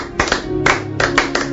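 Congregation clapping during a Congolese church prayer service, with several bursts of rhythmic hand claps coming close and loud, separated by short gaps.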